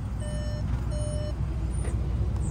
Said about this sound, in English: So it'll just beep at you, letting you know it is still running.